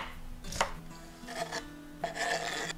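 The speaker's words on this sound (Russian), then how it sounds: "Свежий огурчик нарежу соломкой." A knife slices a fresh cucumber into thin strips for a salad, producing several quiet, crisp cutting strokes in short bursts with small knocks against the board and no talking.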